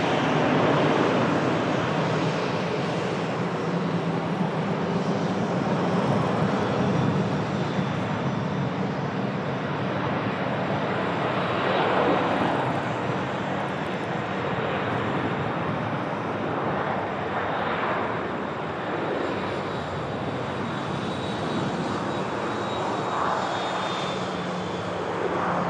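An Aer Lingus Airbus A330 at an airport, its jet engines spooling up in a steady, broad roar with a faint rising whine, heard from a distance and holding constant throughout.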